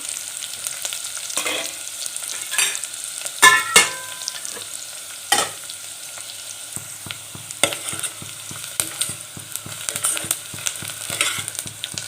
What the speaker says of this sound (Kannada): ಇದು ಈರುಳ್ಳಿ ಒಂದು ಸ್ವಲ್ಪ ಫ್ರೈ ಆಗಬೇಕು ಎಣ್ಣೆ ಒಳಗೆ ಫ್ರೈ ಆಗುತ್ತಾನೆ